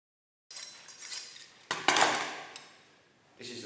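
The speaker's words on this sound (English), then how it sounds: "And Dean will come in and cut a couple of steaks." A butcher cuts steaks from a beef hindquarter strip loin, giving intermittent knocks, scrapes and clinks of blade and tools on meat and board, with a sharper burst of cutting near the middle and quieter handling between.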